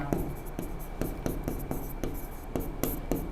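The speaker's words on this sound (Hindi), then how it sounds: "अब मैं लिखता हूँ" Chalk or marker scratching across a board during a Class 12 physics lesson on electric charges and fields, steady repeated strokes with short regular taps, fairly close and alone.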